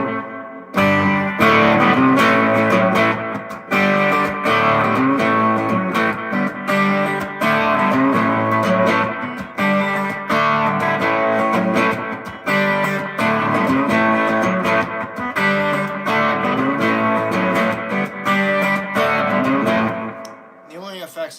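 Electric guitar played with a short delay and amp reverb, sustained chords and notes ringing continuously at steady loudness, fading out at the end.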